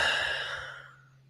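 A single long exhale during a guided breathwork round, a soft airy breath fading gradually over about a second, close and alone without talk.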